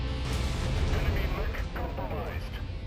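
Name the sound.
PPC weapon firing in video game MechWarrior 5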